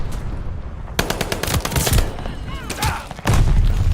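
Rapid automatic gunfire from a Call of Duty Modern Warfare 2 match rattles in dense bursts, with a booming explosion at the start and another heavy volley near the end, all loud and close.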